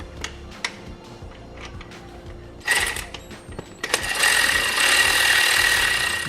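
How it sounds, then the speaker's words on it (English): A bolt on a Toyota 4Runner supercharger bracket is tightened in a garage, with sparse metallic clicks and taps that give way to a loud, sustained whirring ratchet or power tool. "Now we just want to tighten down the bolt."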